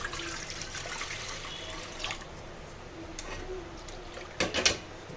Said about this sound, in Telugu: ఇప్పుడు వాటర్ వేసుకుందాం దానిలోకి